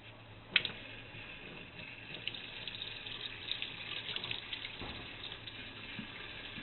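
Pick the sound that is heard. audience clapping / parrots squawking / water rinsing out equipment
water rinsing out equipment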